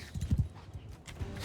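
Horse hooves clip-clopping in Mount & Blade II: Bannerlord, a medieval combat game, a few quick uneven steps at moderate loudness with a brief sharp burst near the end.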